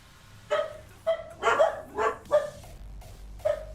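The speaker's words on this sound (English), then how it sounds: "Doggos." Several dogs bark in short, separate bursts, about seven clear barks spread over a few seconds, fairly close and moderately loud, with no talking.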